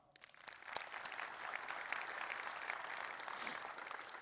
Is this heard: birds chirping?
no